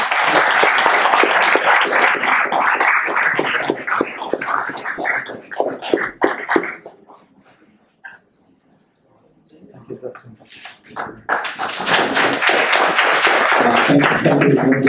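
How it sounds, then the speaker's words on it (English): Audience applause at a session of an academic gathering on quantum physics, brain function and Buddhist philosophy: dense clapping for several seconds dies to near silence, then a second full burst of applause rises and continues to the end. "Big round of applause, please."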